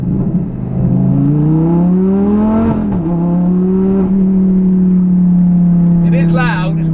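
Heard from inside the cabin, a modified convertible supercar's engine drones and rises in pitch, eases off, then climbs again into a steady, loud hum, with a voice talking over it.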